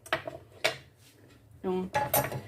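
A spoon clanks against a frying pan while cabbage for a Ukrainian peasant soup is stirred, giving several sharp metallic knocks at irregular intervals, with a brief voice in between.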